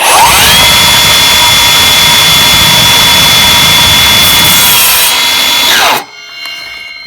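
A power saw rips through wood for a miter joint, a loud, steady high whine sustained for about six seconds close by, then the cut ends and the blade spins down to a quiet hum.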